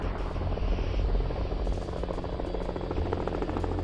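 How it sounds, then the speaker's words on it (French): A helicopter drones steadily nearby, its rotor thudding in a continuous loud whir throughout. "Un hélicoptère dépose les équipes de surveillance munies de longues vues à plusieurs kilomètres du navire"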